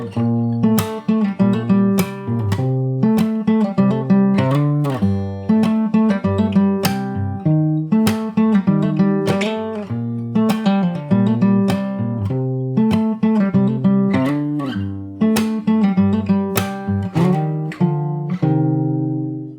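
Fingerstyle acoustic guitar plays the first verse of a pop song, steady rhythmic picking with thumb bass and percussive muted strokes, continuous, close and loud, without any voice.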